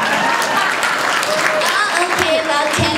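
Scattered audience clapping at a live stage show, a moderately loud patter of hands filling the space while a voice talks over it.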